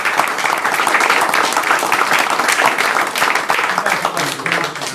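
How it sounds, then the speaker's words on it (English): A room at a town council meeting breaks into a round of applause, loud dense clapping from a crowd that carries steadily with a few voices mixed in. "One round of applause for"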